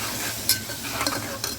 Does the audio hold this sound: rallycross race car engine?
no